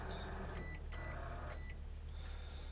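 A microwave oven in a 2007 Roadtrek Popular 210 camper van hums steadily with a low drone, a few short beeps ringing out near the start.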